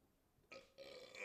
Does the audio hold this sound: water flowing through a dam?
no